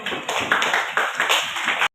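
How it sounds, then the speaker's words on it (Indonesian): Students in a classroom applaud a presenting group, a busy spread of many hands clapping together at close range, then cutting off abruptly. "Silakan tepuk tangan untuk kelompok 1"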